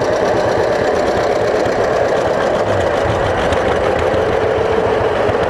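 A steady, loud 1942 John Deere B tractor engine chugs continuously with a rough, rapid knocking rhythm, close by and unbroken throughout, at a town parade.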